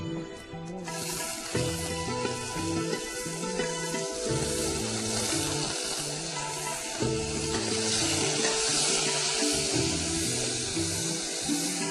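Mixed vegetables of potato, green brinjal, drumstick and bottle gourd sizzling in a pan for sambhar, a steady loud frying hiss that holds throughout over a backdrop of tonal music.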